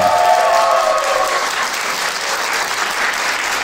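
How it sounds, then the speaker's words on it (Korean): Wedding guests applaud the groom's entrance in a wedding hall, a loud, dense wash of clapping that holds steady throughout, with a brief tonal sound near the start. "박수 한번 크게 부탁드리겠습니다"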